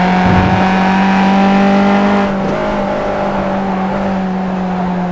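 A Formula race car circles Lime Rock Park, its engine a loud steady drone held at high revs that drops slightly in pitch partway through, heard up close with no talking.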